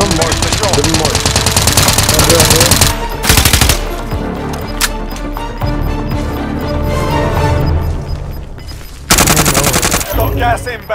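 Video game gunfire: sustained loud, close automatic bursts and rapid shots run almost continuously, broken by a brief lull, then a sharp louder volley near the end, with voices talking underneath.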